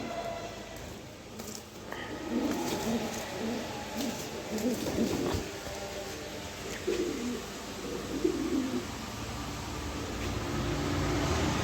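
Pigeons cooing repeatedly nearby, soft throaty calls recurring throughout, with wing flutters and rustling as the frightened birds move, amid a faint voice in the background.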